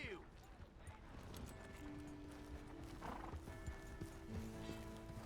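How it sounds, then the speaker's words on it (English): A horse in the Red Dead Redemption 2 video game neighs and clip-clops with hooves in a quick rhythm, its whinny fairly close among game ambience and scattered voices. "Hey! My horse!"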